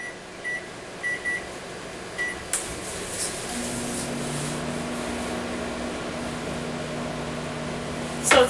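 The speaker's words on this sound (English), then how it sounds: "So it's in the microwave 6 minutes on high." A microwave oven cooking ground beef on high: a few keypad beeps, then the magnetron and fan start with a steady humming drone that continues to the end, where a final beep sounds.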